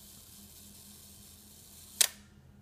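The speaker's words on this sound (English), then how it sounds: "And you press the shutter once you've got the settings correct." Single crisp mechanical shutter release of a Seagull 4B1 twin-lens reflex medium format 120 film camera, a sharp click standing out close and loud against a quiet low hum, followed by silence.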